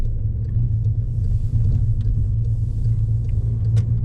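An automatic car accelerating on the road gives a steady, loud low engine rumble with road noise, heard from inside the cabin and continuous throughout.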